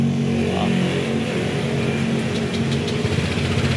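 A Honda Click scooter engine running steadily at close range, a constant idle hum with slight rough flutters toward the end and no talk.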